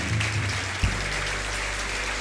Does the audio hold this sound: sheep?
no